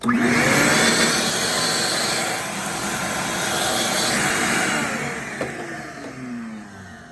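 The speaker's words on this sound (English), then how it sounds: "So I'm just gonna go ahead and vacuum up everything" A loud Ridgid 4-gallon shop vacuum motor runs steadily throughout with a harsh whooshing roar, its pitch dipping and rising slightly as the hose moves over a patio, no talking.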